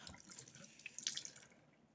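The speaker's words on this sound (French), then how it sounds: "on va mettre encore un peu d'eau" Water poured or running into a sink or container, a soft steady splash with brief brighter trickles in the middle, fairly faint and close, fading toward the end.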